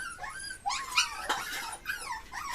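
Puppies whimper and yip at lunchtime feeding, a string of high, wavering whines and short cries overlapping close by, with no one talking.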